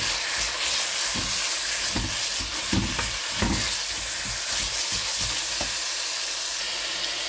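Ground chicken frying with golden-browned garlic and onion gives a dense, loud, close sizzle, broken by repeated scraping and stirring strokes in the pan throughout, with no voices.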